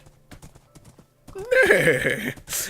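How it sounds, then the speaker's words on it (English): Horse hooves clip-clop in a quick, even run in the Minecraft video game, followed by a loud, close whinny and a short burst of noise at the end. "I've actually become a horse in Minecraft."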